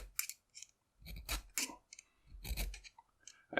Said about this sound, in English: That file's chewing into that thing.